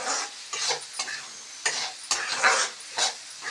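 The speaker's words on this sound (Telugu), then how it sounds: "కొద్దిసేపు ఒక 10 మినిట్స్ అక్కడ ఇక్కడ బాగా కలపాలి." Bitter gourd curry is stirred in a pan, a spoon scraping and tossing the pieces in short, repeated strokes roughly every half second over a faint sizzle. Close and clear, with no voices.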